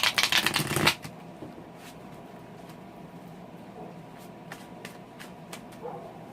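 Santa Muerte tarot cards being shuffled, a loud dense riffle in the first second, followed by quieter scattered card taps and light handling over a soft background.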